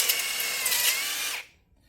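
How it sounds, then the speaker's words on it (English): A power drill bores through a VW Type 1 engine case, a steady high whine for about a second and a half that cuts off abruptly into silence. "So the first one I'm going to try to drill through now is this."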